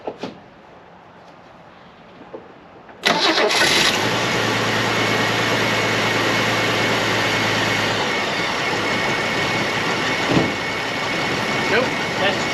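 A Holden Commodore engine fires up suddenly after a quiet stretch of faint clicks, then runs loud and steady at a rough idle close by, with a brief rev partway through.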